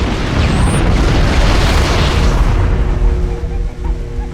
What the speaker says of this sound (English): I'm going to throw a grenade on the fight